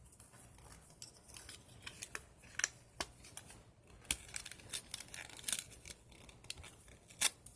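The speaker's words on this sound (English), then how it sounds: "I think I want to cut this card and use it as a background." Scissors cutting through a sheet of card for a junk journal, a steady run of crisp snips and rustling paper close by, quiet with no talking.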